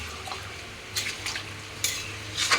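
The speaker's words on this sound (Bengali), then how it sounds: "আবার একটু নাড়াচাড়া করে" Food being stirred in a pot after sugar goes in, with a few short scraping, clinking strokes of the spoon over a low steady cooking hum.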